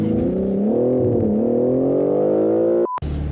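A BMW M3 G80 engine revs hard and loud on a launch-control start, a rising, strained roar held for nearly three seconds before cutting off abruptly into a brief mechanical blip.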